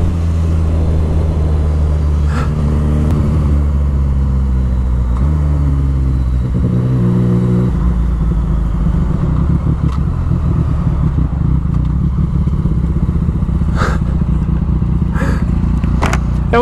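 A motorcycle engine runs steadily nearby, idling with a few short revs and shifts in pitch, then a rougher clattering stretch with sharp knocks as the clutch is worked by foot.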